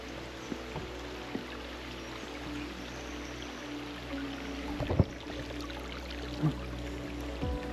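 A creek flows at a hiking crossing, a steady close babble and trickle of moving water with a few splashes and footfall knocks on stones, no talk.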